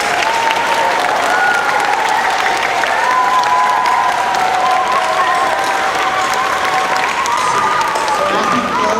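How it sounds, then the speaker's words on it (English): Loud, continuous audience applause fills a school hall after a spring music concert at Muraski, with dense clapping and some voices and murmurs mixed into the crowd for nine seconds. "Let's give them one more round of applause."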